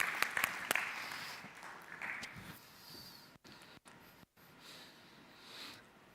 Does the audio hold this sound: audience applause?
yes